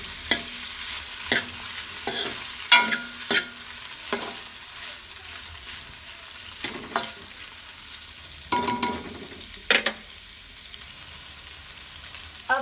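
A spoon stirs chicken, peas and macaroni in a frying pan, scraping and clinking in distinct intermittent strokes over a faint background sizzle, with no voices.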